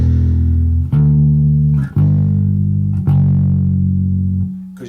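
A bass guitar plays just the root notes, four long sustained low notes struck a second or so apart, each ringing close and loud until the next.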